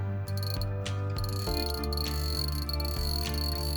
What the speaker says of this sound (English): Next, let's check the drag.